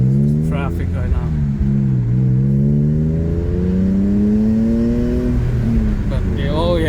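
A BMW E46 M3 cruising at about 80 mph after a steering coupler replacement gives a loud, steady engine drone with a tone that climbs gradually, continuous throughout with no talk.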